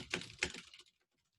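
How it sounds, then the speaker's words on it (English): Two quick clusters of keyboard typing, close and crisp, followed by near silence. "Why am I typing this?"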